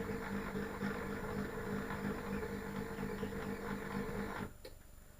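A Waring soup maker heats up and cooks with a steady mechanical hum and faint sizzling rumble, close by, running evenly until it cuts off sharply near the end, with no talk.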